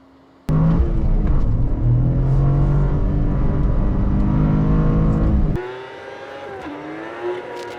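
A Toyota GR Corolla out on the road: a loud engine note kicks in abruptly and holds steady for about five seconds, then drops to a quieter, lower rumble.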